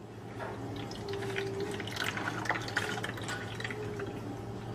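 Orange juice pours into a slushie maker as a soft, continuous liquid trickle with faint splashes and drips, close and fairly quiet over a low steady hum, with no speech.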